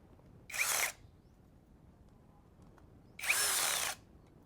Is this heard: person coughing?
no